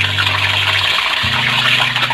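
Ten to twelve red chillies, cinnamon, small green cardamom and curry leaves fry in hot oil, giving a steady, close, even sizzle with a faint low hum underneath.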